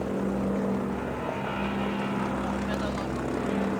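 A Stinson L5 Sentinel propeller plane flies at an autumn air display at Duxford, a steady droning engine hum running throughout without letup, with a voice talking over it.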